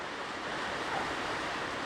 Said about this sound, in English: If you can hear noise, it's the rain falling on the roof.